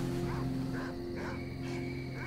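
Many dogs bark in the game S.T.A.L.K.E.R.: Call of Pripyat, a scattered chorus of yips and bow-wows rising at intervals over a constant low ambient hum.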